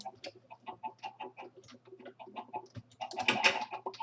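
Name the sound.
chickens clucking in the video game Minecraft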